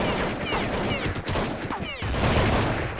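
Dense, continuous gunfire from a Counter-Strike match on the de_tuscan map, with spray fire through smoke, several bursts overlapping and steady throughout, with a brief dip near the middle.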